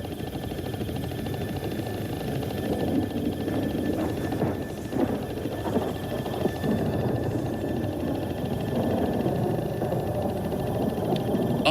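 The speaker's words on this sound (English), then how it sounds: "The sound of the chopper is probably frightening her." A helicopter flies nearby over reeds where a raptor crouches, a loud, steady rotor roar with a rumbling broadband wash that holds constant throughout, with no voices over it.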